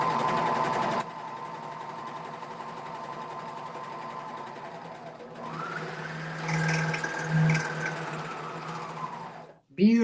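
Home sewing machine stitching thick ponte knit fabric, a steady mechanical whir running in two bursts with a brief pause between, close and fairly loud, with a short spoken bit at the very start.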